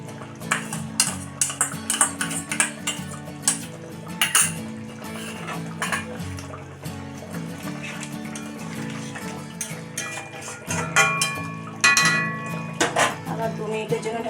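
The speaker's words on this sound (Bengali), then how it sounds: "এবারে আমি ঢাকাটা খুলে ভাজা চিংড়ি মাছটা দিয়ে দেব।" Fried prawns go into a cucumber curry in a pan, with irregular metallic clinks and clatters of a utensil against cookware, close and fairly loud, with a soft liquid background.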